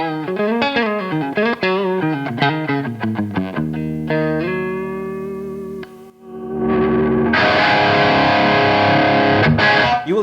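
Electric guitar, an SG fitted with Seymour Duncan Slash 3.0 pickups, plays a run of distorted, effects-heavy notes and sustained bends, then breaks into a loud, thick overdriven strummed chord wash with echo.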